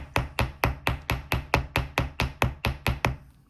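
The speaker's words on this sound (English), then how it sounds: "Just a slight touch of a hammer" A hammer lightly taps a wire-wrapped jewellery link, about a dozen crisp, evenly spaced metallic knocks up close, steady in rhythm with no talk.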